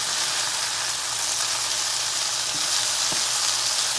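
Browning food sizzling steadily in a pan while being stirred, a dense, loud hiss with a few faint scrapes, close and continuous, with no voices.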